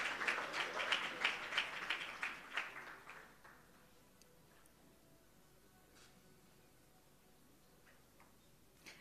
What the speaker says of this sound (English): keep the applause going for Marjorie